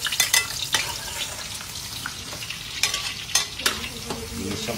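Garlic and onion frying in a pan, a close steady sizzle punctuated by sharp scraping and stirring strokes of a utensil, with no talking over it.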